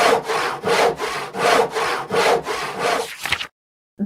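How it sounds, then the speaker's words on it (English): A hand saw cutting wood in about seven steady back-and-forth strokes, rhythmic and close, ending abruptly in silence. "Saw goes sh, sh,"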